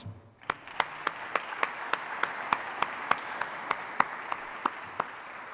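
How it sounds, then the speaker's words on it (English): A single person claps in a slow, steady rhythm, about a dozen crisp, evenly spaced claps ringing out over faint room noise at the 2019 OU Price College Energy Symposium welcome. "Please give him a round of applause."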